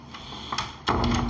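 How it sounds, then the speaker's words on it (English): Bathroom door in an apartment being pushed shut, a short scrape followed by a solid closing thud, close by. "We can close the door"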